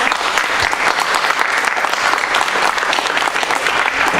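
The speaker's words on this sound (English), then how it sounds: "let's give him another round of applause for the answers to these questions" Audience at a 2014 Oxnard mayoral candidates' forum at Oxnard College breaks into loud, sustained applause, a dense steady wash of clapping hands filling the hall from start to finish.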